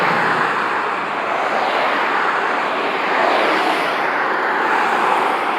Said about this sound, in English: A very, very large truck. Looks like a Volvo.